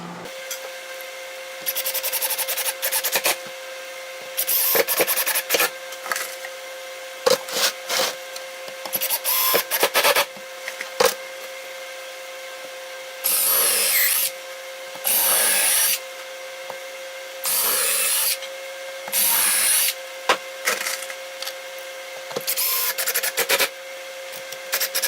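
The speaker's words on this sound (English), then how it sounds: "actually going to go ahead and drill the holes through the floor pans" A power drill bores holes through the floor pans of a VW Kubelwagen, whining in repeated short bursts of a few seconds each, separated by quiet pauses and small handling clatter.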